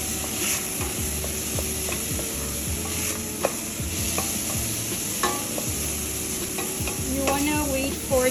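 Onions sizzle and fry in a pan, a steady close crackle broken by scraping stirs and a few utensil clicks throughout.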